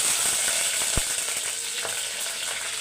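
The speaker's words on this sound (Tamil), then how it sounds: "சீரகம் நல்லா பொறிஞ்சவொன்னே ரெண்டு பச்சை மிளகாய் கொஞ்சம் கருவேப்பிலை" Cumin, green chilies and curry leaves sizzle steadily in hot oil, a dense close crackle and hiss with one sharp pop near the start, no voices.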